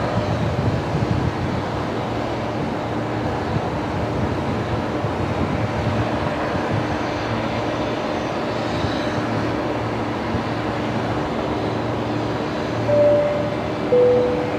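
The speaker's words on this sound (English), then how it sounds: "It's the 321 Neo from Wellington" An Air New Zealand Airbus A321neo arriving at Brisbane Airport from Wellington gives a steady, distant jet rumble mixed with wind across the microphone. The sound stays low and even throughout, with a couple of faint tonal blips near the end.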